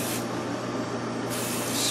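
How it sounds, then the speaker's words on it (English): Butter-flavored cooking spray hisses from the can onto chicken breasts in two close bursts, a short one followed by a longer steady spray. "You take a little bit of just a spray. I got the butter flavored one here."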